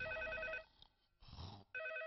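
An indoor telephone bell ringing in repeated electronic bursts, broken by short pauses, fairly close and clear with no talk over it.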